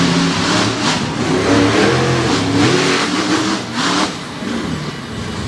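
Monster truck engines, a 540 Hemi and a 540 Chevrolet, roar and rev loudly at an outdoor racing event at Winchester, a sustained rising and falling drone with a brief dip before resuming.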